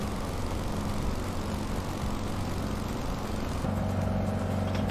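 An aircraft engine roars in a flyby in Microsoft Flight Simulator, a steady loud drone whose tone shifts partway through as the plane passes, with no voices.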